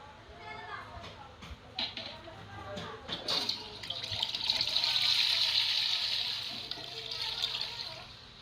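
Water poured in a Toca Boca game, a sustained hissing splash swelling in the middle and fading, under children's talk and clicks at the start.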